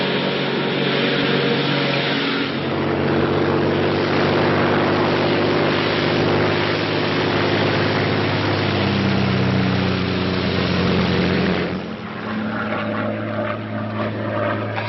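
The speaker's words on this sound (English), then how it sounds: "a Royal Air Force plane is waiting for us at a secret landing place." Propeller drone of a Royal Air Force plane in flight, a steady, loud engine roar with layered low hum that sustains throughout, easing off slightly near the end; no voices.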